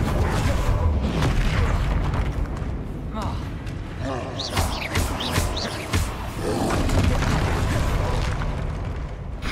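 Confringo explosive spell in Hogwarts Legacy amid combat: repeated booming blasts and roaring impacts with crackling bursts, loud and near, layered over game effects and a creature's growls, with a voice speaking briefly.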